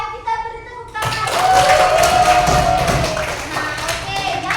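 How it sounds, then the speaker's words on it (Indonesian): Schoolchildren in a classroom clap their hands in a lively, dense patter that follows a sung or spoken call, with young voices chattering through and over the clapping. "kita beri tepuk tangan"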